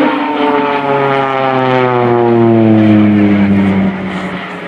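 Pilatus PC-7 propeller trainer of the Swiss Air Force aerobatic team flying a slow roll at an airshow, a steady loud propeller drone with gliding engine harmonics that shift pitch as it passes, easing off near the end, no talk.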